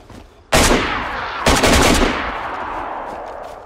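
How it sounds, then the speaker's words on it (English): Gunshots in DayZ: a sharp loud burst of gunfire, then a second rapid cluster of several shots in quick succession, each ringing out and decaying into the surroundings. "It's like you shot like three shots at once."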